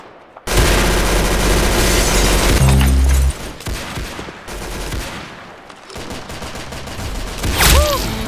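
Rapid gunfire from Roblox Arsenal on a beach map: loud dense bursts of automatic shots with short pauses, a few heavier booms and crisp single shots toward the end, all in the foreground with no talking.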